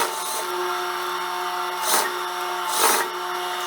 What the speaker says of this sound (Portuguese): Finalizando aqui o pesponto